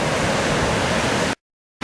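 Ocean waves break and wash steadily along the beach at Concón, Chile, a broad, loud roar of surf that runs continuously before cutting to silence near the end.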